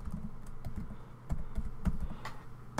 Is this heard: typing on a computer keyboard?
yes